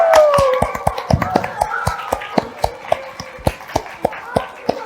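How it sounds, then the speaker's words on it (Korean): An audience at a Korean World Space Week science museum event claps in a steady, sparse rhythm of distinct handclaps. Tonal music plays underneath. "자, 여러분 박수!"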